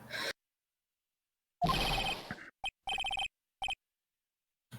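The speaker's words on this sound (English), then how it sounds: "Man, I used to like this ringtone." A phone ringtone from the Phoenix Wright video game sounds as short, tonal electronic bursts, several in quick succession and separated by silence, at a fairly quiet level.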